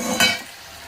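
Fried eggplant pieces dropped into a simmering spiced gravy for begun rosha, giving a short, loud sizzling splash that fades into a quieter, steady bubbling hiss.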